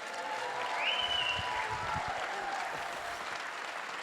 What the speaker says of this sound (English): So can you all give a huge cheer for Rafi Toda?